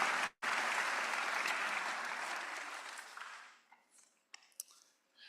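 Graduation audience applause, a dense burst of many hands clapping that holds steady and then fades out over a few seconds, leaving scattered quiet noises.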